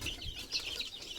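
A mother hen with chicks clucks softly in a short series of quick, low calls, faint and nearby, with some light rustling.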